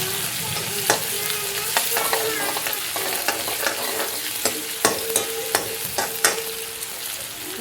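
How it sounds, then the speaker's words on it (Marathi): Finely chopped onion sautés in a pan as it turns reddish, giving a steady close sizzle with frequent spatula scrapes and taps and no voices. "थोडंसं कांदा लालसर होईपर्यंत आपण हे परतून घेऊया"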